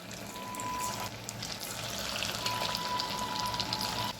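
Cabbage Manchurian balls fry in hot oil in a wok, giving a steady, fairly quiet sizzle and hiss that holds evenly throughout.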